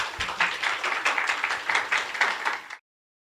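Applause from a workshop audience welcoming a speaker, a dense steady round of clapping from many hands that carries on for nearly three seconds and then cuts off abruptly.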